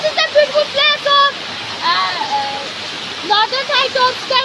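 Hussainabad waterfall in Skardu Valley gives off a steady broad hiss of rushing water beneath a person talking close by.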